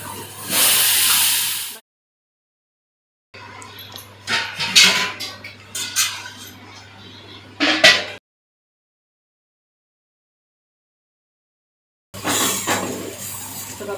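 Potatoes tipped into hot oil with an onion tempering, giving bright hissing sizzles in separate bursts with a few clinks of a pot and utensil, broken by stretches of total silence.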